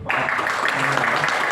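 An audience at a seminar-style talk breaks into applause, a dense, even clapping that starts abruptly and holds steady and fairly loud, with a voice faintly underneath.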